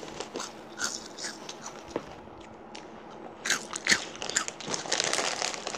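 Crunchy Cheetos bitten and chewed close to a microphone, with crisp irregular crunches that start sparse and faint and grow denser and louder toward the end.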